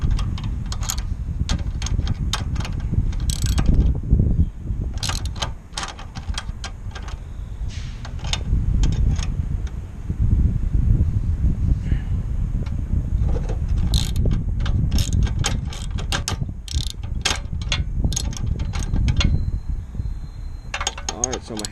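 A hand wrench clicks and ratchets in repeated bursts while tightening a foot peg bolt on a custom mini bike, close and sharp over a rumbling background, with short pauses between strokes.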